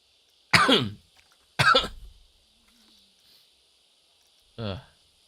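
Two harsh, loud coughs close together, a pause with faint shuffling, then a third cough a few seconds later.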